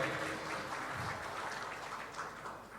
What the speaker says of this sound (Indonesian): Saya lihat tepuk tangannya kok agak sedikit ngirit ya hari Senin ini.